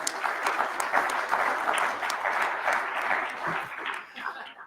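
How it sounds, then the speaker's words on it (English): An audience at a commercial real estate technology event gives a round of applause for a guest, steady clapping that fades toward the end, with a voice heard over it. "So a big hand clap for Kevin."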